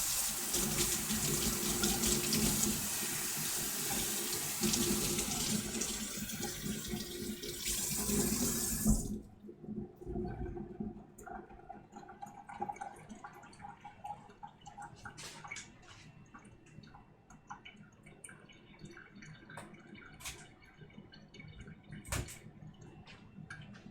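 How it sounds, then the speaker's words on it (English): Water from a running kitchen tap splashes steadily while something is rinsed out during chicken and chickpea stew prep, loud and continuous for about nine seconds before cutting off into quieter drips and small clatters. "Give this a rinse out."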